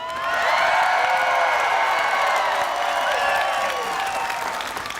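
A farm rally crowd gathered outside a state capitol claps and cheers loudly, a dense wash of applause with scattered whoops and shouts that stays strong throughout before easing slightly at the end.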